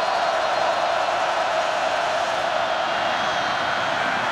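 Stadium crowd roar at a 2018 Iowa at Penn State Big Ten college football game, a loud, steady wash of noise holding at one level throughout with no clear speech.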